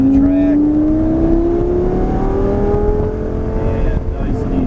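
A Lamborghini at full throttle on an airport track, its engine note rising steadily and loud as it accelerates, with a voice talking over it.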